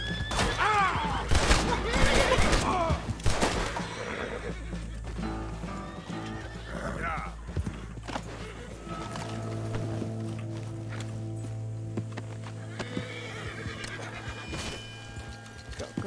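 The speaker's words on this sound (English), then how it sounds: "Shot his own horse." A horse in a video game neighs and whinnies loudly after being shot, with clip-clopping hooves and bursts of gunfire, then a steady engine-like drone and quieter ambient game noise.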